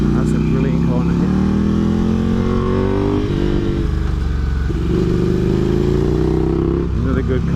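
Ducati motorcycle engine while riding a winding mountain road, a loud, close growl rising and falling in pitch through acceleration and gear changes, with wind rush throughout.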